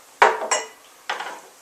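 Tomatoes are dropped into a simmering pan with a few distinct clanks and clatters of a utensil against cookware, three separate knocks spaced apart, fairly close and with no talking.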